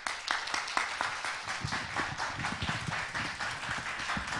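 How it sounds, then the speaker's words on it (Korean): A seated audience claps to welcome the poet Ko Hyeong-ryeol at a poetry talk event: a steady, moderately loud round of many hands clapping at a fairly even rhythm, with no talk over it. "여러분 큰 박수로 맞이해주시기 바랍니다"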